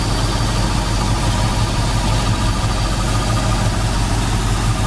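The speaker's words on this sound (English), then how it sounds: ".302 engine, sounds great, runs great." A 1972 Ford Mustang convertible's 302 V8 engine idles steadily up close, a low, even rumble with a smooth rhythmic pulse and no other sounds.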